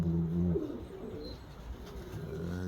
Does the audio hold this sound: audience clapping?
no